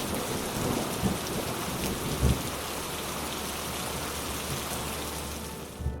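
Steady heavy rain pours in a cartoon story, with a few low thunder rumbles and thumps rising out of the dense, constant downpour.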